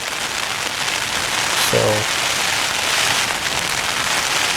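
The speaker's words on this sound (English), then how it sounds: "hopefully it's a good rain." Rain falls steadily on a campsite in Yosemite, California, a loud close wash of patter with a brief spoken word partway through.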